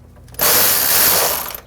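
A ratchet wrench tightens a radiator fan shroud bolt on a Nissan NV2500 with a 5.6L V8, giving one loud, close burst of rapid clicking that lasts just over a second.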